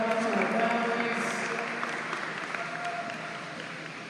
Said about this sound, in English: One more big round of applause for all of our athletes and our families.